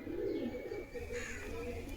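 A female pigeon coos in soft, low, rolling murmurs, quiet and close, with no other voices around.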